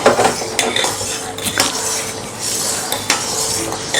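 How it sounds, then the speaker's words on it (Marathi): A spoon scrapes and clinks around the inside of a metal pot of milk with custard powder, several sharp knocks and scrapes over a few seconds, close and fairly loud, with no voices. "असं चमच्याने व्यवस्थित आतून हलवून घ्यायचं"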